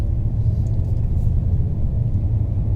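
A 2019 Kia Optima GT on a test drive in comfort and auto mode, its steady low road rumble and engine drone filling the cabin continuously and evenly with no talk.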